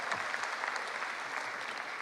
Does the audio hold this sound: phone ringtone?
no